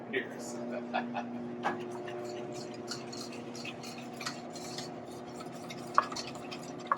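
A whisk works pie filling in a bowl during a Southern food cooking class, giving faint, steady stirring and clinking under sustained background hum.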